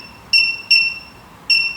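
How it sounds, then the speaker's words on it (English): Three short, high electronic beeps in quick succession, crisp and close, from touch-button presses on a PID temperature controller. "You can hear the beep sound"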